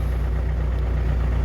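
The diesel engine of a Mercedes Sprinter 906 van idles steadily up close in freezing weather, a low, throbbing rumble with an even rhythm that holds without change throughout.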